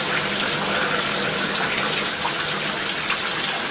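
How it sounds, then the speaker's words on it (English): A bathroom tap runs steadily while a small lip exfoliation brush is rinsed under it, a continuous close, even gush of water with no talking over it. "Rinse out the brush. Rinse your lips."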